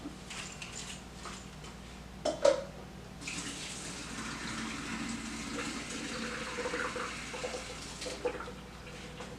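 Pasta water draining into a kitchen sink, a steady rushing pour running through the whole stretch, with a brief clatter of pot or dishes partway through and no talk.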